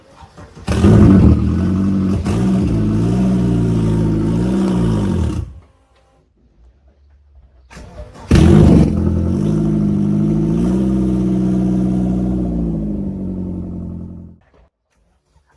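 An all-wheel-drive Vauxhall Nova engine roars loudly as the car is driven, running in two sustained bursts that each cut off abruptly, with a short silence between them.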